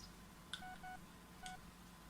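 Phone keypad tones sound as a number is dialed in the Blair Witch video game, a few short evenly spaced beeps in two quick groups, faint and clean over a low background hum.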